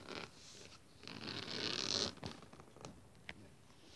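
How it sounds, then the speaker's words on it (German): A zipper on a soft fabric pencil case is pulled open in one longer rasping run, preceded and followed by brief quieter zip sounds and light handling of the cloth, close and fairly soft. "wenn man den Reißverschluss aufmacht"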